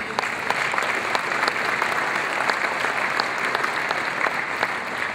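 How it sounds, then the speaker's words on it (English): Diners at a chamber of commerce annual dinner applaud their guests, a steady, even crackle of many hands clapping together, sustained throughout at moderate volume. "a round of applause for all of our guests that are here tonight"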